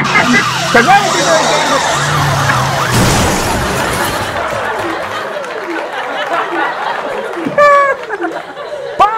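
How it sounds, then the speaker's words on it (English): Loud street traffic heard over a phone interview, with a wailing emergency siren, passing cars and background chatter, while a voice talks briefly over it. "I apologize for the traffic noise."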